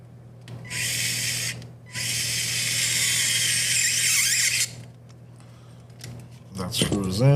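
A small electric screwdriver drives a screw into a TRX-4M RC truck build, two high whining bursts, the second longer, over a steady low hum, with a voice speaking briefly at the end.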